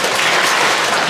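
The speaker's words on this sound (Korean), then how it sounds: "박수를 한번." A church congregation bursts into applause during a sermon, a brief, loud, dense wash of clapping from many hands with no voices over it.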